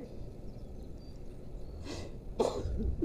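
A woman's single sharp, explosive sneeze rises out of a low rumbling background, preceded by a softer breathy sound a moment earlier.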